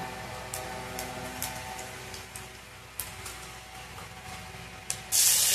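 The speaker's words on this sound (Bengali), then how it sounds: "এবার একটু 5 ফোড়ন দেবো" Panch phoron spices sizzle in hot oil in a home kitchen, a steady crackling hiss dotted with sharp pops and spits, ending in a louder, brighter burst of frying.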